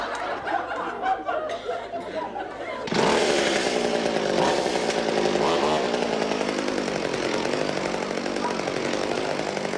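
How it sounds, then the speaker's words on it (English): A chainsaw roars to life abruptly and keeps running loud and steady at close range, its motor note wavering as a comedy-show audience laughs and chuckles underneath. "I'll start the chainsaw, right?"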